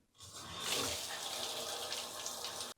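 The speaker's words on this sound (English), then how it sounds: "And then we are good to go ahead and seal this and start the water." Warm tap water running to wash LEGO pieces, a steady rushing stream that starts abruptly, holds at an even, close level and cuts off at the end.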